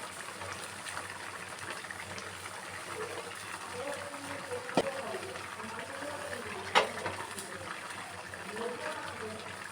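Curries reheating in a pot in the morning, giving a low steady bubbling and simmering hiss with a couple of sharp clinks, while someone talks over it.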